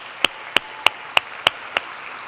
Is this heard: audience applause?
yes